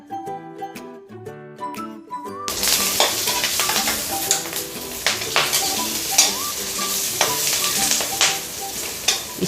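Garlic cloves, green chillies and ginger hit hot oil in a pan, starting after a short musical intro into a loud continuous sizzle with stirring scrapes and clinks throughout.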